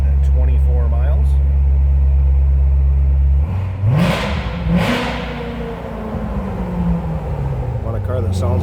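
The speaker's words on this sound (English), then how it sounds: "Want a car that sounds like a race car with that performance exhaust?" A 2016 Chevrolet Corvette Z06 with a performance exhaust idles with a deep rumble, then revs sharply twice and settles back; a voice talks over parts of it.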